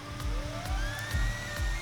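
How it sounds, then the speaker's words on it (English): A police siren wails in the video game GTA Online, its rising and falling tones repeating steadily and loudly over low engine rumble and gunfire-like thumps. "Oh my god, this alarm is so annoying. Oh, I mean siren."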